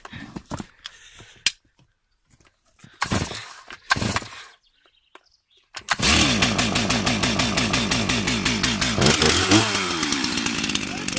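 Several sharp pulls and sputters of a starter cord, then a small engine catches and a chainsaw roars into a steady, loud run.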